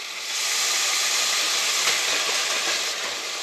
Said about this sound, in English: I let the steam help cook the broccoli.